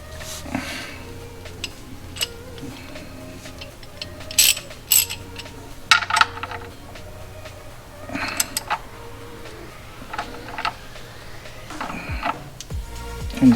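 Ratchet tightening a new M13x1.5 drain bolt into a BMW oil pan, quick rattling clicks in short bursts with creaks and metallic handling sounds, close and fairly loud.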